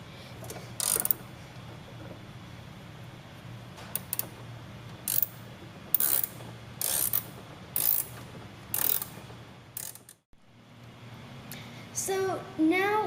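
A ratchet wrench loosens the battery hold-down bolt on a 2007 Chevrolet Avalanche, giving repeated short bursts of rapid clicking spaced through the clip over a low steady hum, close and fairly loud.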